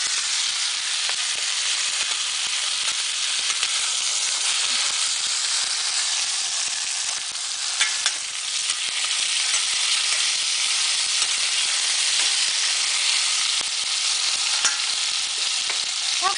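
Steady loud sizzle of chicken and eggplant stew frying in a pan over medium-low heat, a continuous dense hiss with faint scraping of stirring, close and unbroken with no talk.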